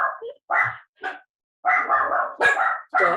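Several dogs bark loudly and close in a rapid, overlapping series of sharp barks and yips with brief silent gaps, no talk over them.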